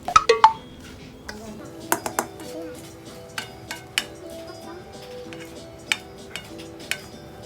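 A spatula scrapes and clinks against a pan while stirring southern-style Thai shrimp fried rice, a series of sharp metallic taps spaced irregularly over quiet background.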